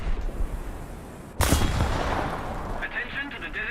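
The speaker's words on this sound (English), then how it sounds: "As I press the button to fire." In a War Thunder battle, an SU-85 tank's main gun fires one sudden loud blast. It is followed by a rumbling echo and battle noise.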